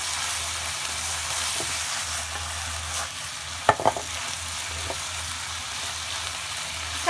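Chicken with ginger stir-fries in a pan in a steady, close hiss, broken by a few sharp utensil clinks around the middle as the mixture is tossed and stirred; no talking.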